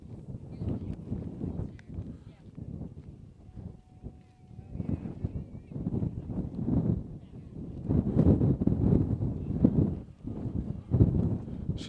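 Gusty wind buffets the microphone at an outdoor girls' high school soccer final, a steady low rumble rising and falling in bursts throughout, with voices talking underneath.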